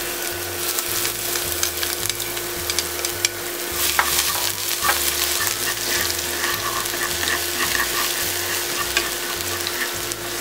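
Steady crackling sizzle of minced garlic and shallots frying in a pan over the lowest heat, continuous and close, with no talking.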